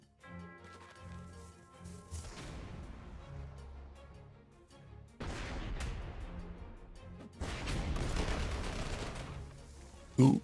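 In the Panzer Corps 2 war game, artillery fire arrives in heavy rumbling booms. Separate barrages swell and fade, then a louder, denser volley builds near the end.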